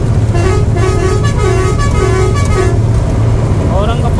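A truck's faulty horn toots in a steady repeating pattern of short blasts over loud engine noise and chatter, then a warbling tone near the end.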